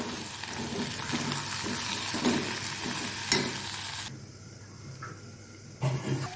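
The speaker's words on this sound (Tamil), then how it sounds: "இப்போது உப்பு சேர்த்து வதக்கி விடலாம்" Brinjal and potato pieces sautéed with salt in a pan, with a close, steady sizzle and repeated spatula scrapes and stirring, dropping quieter partway through before a few final knocks. No voices.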